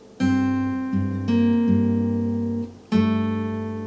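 Clear guitar notes ring out in a short riff, several plucked tones sustaining and overlapping, played alone and close.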